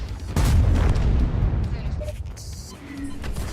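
Artillery shell strike in World of Tanks: a heavy booming impact with a sustained low rumble, loud and close, followed by fading debris and ambient battle noise.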